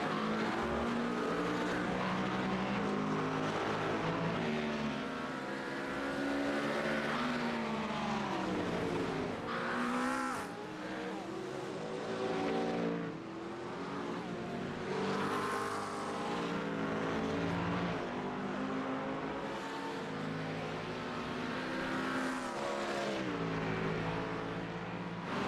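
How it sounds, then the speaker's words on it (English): A pack of GT3 race cars in a racing game closing on the first chicane, engines droning loudly with shifting, rising and falling pitch as they brake and accelerate, continuous with no talk. "Bunch of GT3s coming up to the first chicane."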